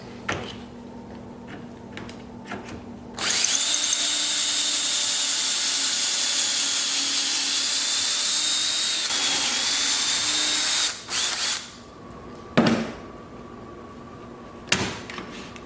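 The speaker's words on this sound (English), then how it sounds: "use your Kreg tool to create your pocket holes" A Kreg jig bores pocket holes into desk drawer rail wood with a power drill, a loud close whine running about seven seconds, followed by shorter bursts and clunks of repositioning.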